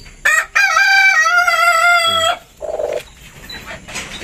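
A Chinese chicken crows loudly and close by in a long drawn-out call, followed by a few short clucks and faint farmyard sounds.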